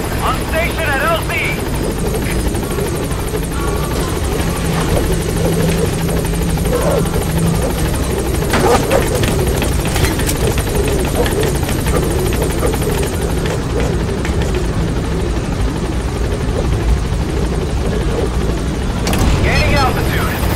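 Pequod's helicopter from Metal Gear Solid V hovering at the landing zone, a steady loud rotor drone and buzz throughout, with game voices talking over it.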